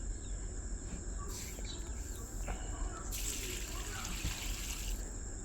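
Cut cauliflower pieces are washed in a vessel of water, with soft continuous splashing and swishing that grows louder in bursts near the end. A faint high insect-like chirp runs steadily underneath.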